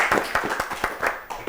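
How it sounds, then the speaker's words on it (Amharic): An audience of children and adults clapping briefly on a televised Ethiopian children's quiz show, a short burst of close, uneven hand claps. "አጨብጭቡላቸው።"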